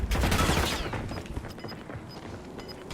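Gunfire in the video game Warzone on Rebirth Island: a dense, loud burst of rapid shots at the start, then a quieter tail with scattered, sparser pops.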